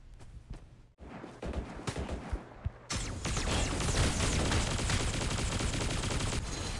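Rapid gunfire from a hero shooter match, sparse shots and footsteps at first, then a sudden sustained barrage of dense, loud automatic fire that holds steady to the end.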